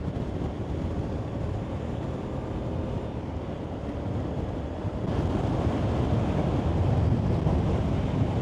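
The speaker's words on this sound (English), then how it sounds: "And it's a headwind." A strong headwind blasts into the microphone while riding in western China, producing steady, loud, low-pitched buffeting that gets heavier partway through, with no talking.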